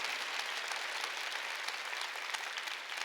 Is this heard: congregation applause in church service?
yes